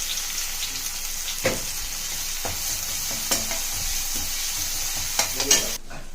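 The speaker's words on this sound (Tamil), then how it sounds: "இப்போ அதே கடாயில் எண்ணெய் ஊற்றிட்டு இந்த வெங்காயத்தை ஆட் பண்ணி நல்லா வதக்கிடுங்க" Onions fry in oil in a pan with a constant sizzling hiss, broken by occasional scrapes and stirring clatters, ending with a brief louder stir.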